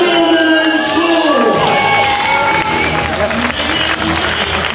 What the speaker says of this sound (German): Möchte ich sie jetzt begleitet durch euch nochmal mit einem riesen Applaus von der Bühne schicken.